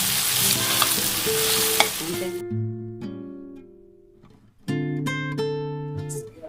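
Village-style chicken curry frying in a pan hisses and crackles with stirring for about two seconds, then the sizzle drops away and clear ringing musical tones take over.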